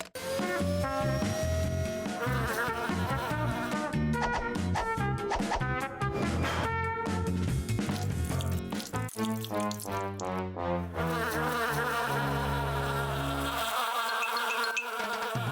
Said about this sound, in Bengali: ওহো, না, মৌমাছি।